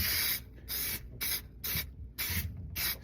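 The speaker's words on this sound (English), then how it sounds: "we recommend using spray adhesive like so" Spray adhesive can spraying onto the rodent barrier beneath a manufactured mobile home, six short hissing bursts in a steady rhythm with brief gaps between, close and fairly loud.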